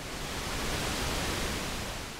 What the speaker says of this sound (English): pink noise rolls off the high end slightly